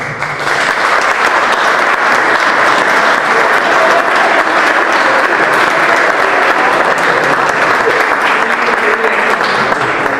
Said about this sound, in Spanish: despedimos a nuestros colaboradores y campeones con un fuerte aplauso